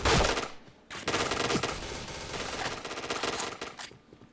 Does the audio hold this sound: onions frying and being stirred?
no